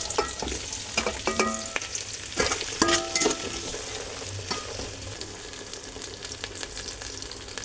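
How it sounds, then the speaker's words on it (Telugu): Onions fry in hot oil for tomato rice, crackling and sizzling under repeated spatula clatters and scrapes against the pan, busiest early and then settling into a steadier hiss, near and clear with no speech. "ఇప్పుడు ఉల్లిపాయలు ఇవన్నీ వేసుకుంటున్నాను"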